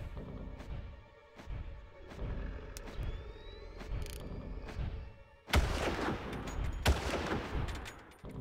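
Gunfire from the Far Cry video game sounds as a string of sharp shots at an irregular pace, then a louder, denser burst of blasts and crashing that fills the final few seconds.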